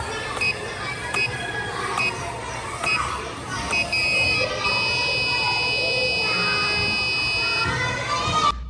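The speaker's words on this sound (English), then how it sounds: "has a buzzer too, and it does beep, and that means you've lost a life" Repeated electronic buzzer beeps from an Arduino-based balloon sword game device sound amid a noisy crowd with children playing, followed by a longer sustained tone.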